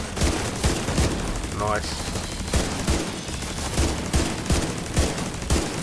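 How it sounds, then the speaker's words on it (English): Rapid turret gunfire in The Division 2 shooter game, steady rhythmic bursts of shots throughout, with a voice briefly speaking over the firing. "Gun him down, turret."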